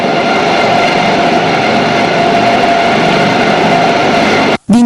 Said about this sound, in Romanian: Cea mai grea încercare pentru salvamontiști a fost intervenția asistată de elicopter.